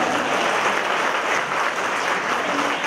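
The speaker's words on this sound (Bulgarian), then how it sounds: "Аплодисменти за младоженеца." Wedding guests clap for the groom at a reception, a continuous close burst of many hands applauding at steady strength for a few seconds, with no speech over it.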